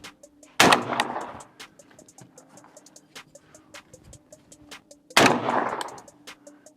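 Two loud, sharp blasts from a CZ 712 G3 semi-automatic gas-operated shotgun firing Black Cloud shells, spaced about four and a half seconds apart, each with a short decaying echo over quiet outdoor background.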